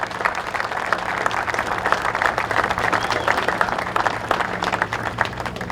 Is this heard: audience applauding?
yes